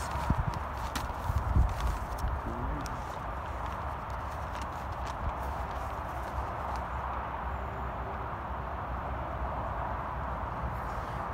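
A horse in a dressage test moves from walk into working trot, hoofbeats clip-clopping softly and rhythmically on the arena footing under a constant background hum, with no voices.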